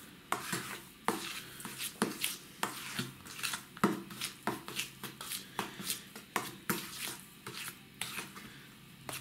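A spoon stirs salt through red caviar in a bowl being dry-salted, producing a quick series of close, light clinks and scrapes in a steady rhythm.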